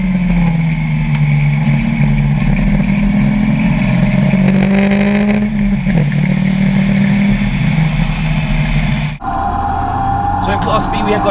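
Race cars circle the Zwartkops circuit at the end of a race, engines droning loudly and steadily with shifting pitch as they pass, cutting abruptly to another car's higher whine near the end.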